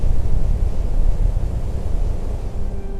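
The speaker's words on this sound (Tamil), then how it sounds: "காற்று வீசும் சத்தம் மட்டும்." Wind blowing through an empty, dead city under black clouds in a dark audio drama: a loud, steady, rushing broadband gust that swells slightly and then eases, with no other sounds.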